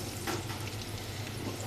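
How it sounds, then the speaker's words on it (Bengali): Onions and garlic fry together in a pan, giving a close, steady crackling sizzle with a faint stir partway through, fairly quiet overall. "এই পেঁয়াজগুলো আমি রসুনের সাথে ভাজবো"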